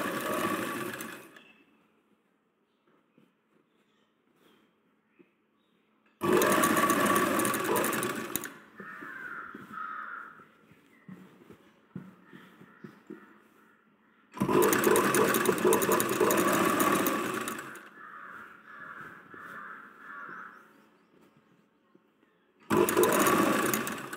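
An electric sewing machine stitches a ladies' raglan sleeve top in three loud, buzzing runs of a few seconds each, with quiet handling and faint softer noises in the gaps between them.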